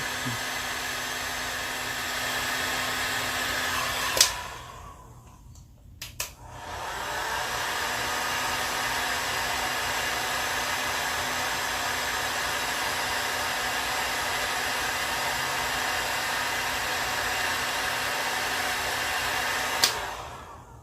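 A heat gun blows steadily while shrinking heat-shrink tubing over crank sensor wires, a continuous loud whooshing hiss that cuts out briefly with a couple of clicks mid-way, then resumes evenly until the end.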